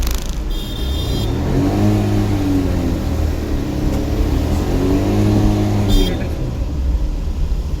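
Car engine revving and rising in pitch during a driving lesson, with gear changes and repeated acceleration swells, steady and close, while an instructor talks over it.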